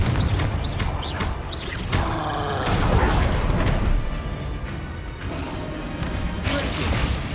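In Hogwarts Legacy, the Confringo fire-blast spell makes dense rumbling booms and crashes over a busy mix of magical whooshes and mechanical effects, loud and continuous.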